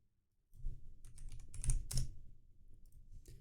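Rapid typing on a computer keyboard, a dense run of soft clicks and taps for about three seconds, close and fairly quiet with no speech.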